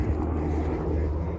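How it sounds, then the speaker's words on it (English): A low, steady rotor-and-engine drone rumbles overhead from a helicopter during elk season prep outdoors in Colorado, constant and fairly loud throughout with some wind buffeting. "That's a helicopter."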